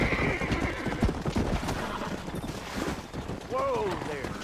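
A wild horse whinnies and neighs in Red Dead Redemption, with rising-falling calls near the end over busy game ambience, hoofbeats and distant gunfire, while a voice talks underneath.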